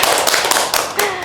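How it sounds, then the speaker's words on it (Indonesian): Short burst of classroom applause for a student group during a library services and promotion microteaching session, several hands clapping briskly and fairly close for about a second. "Tepuk tangan dulu untuk kelompok 1."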